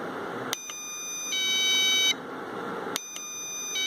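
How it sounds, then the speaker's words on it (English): Doorbell buzzer on a TI MSP432 home automation board, sounding as a steady electronic tone that starts and stops several times in clear on-off bursts over a constant background hiss. "So the doorbell is functioning properly."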